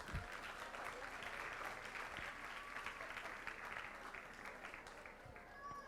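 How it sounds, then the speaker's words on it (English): Steady applause from an audience at a school district board meeting, honoring a staff member; even, continuous clapping fills the room at moderate level without pause. "Let's give Nichelle Miller another round of applause."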